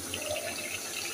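Water poured into browned, sautéed meat for kabsa, a steady close splash and trickle filling the pot for the whole moment, with no voices over it.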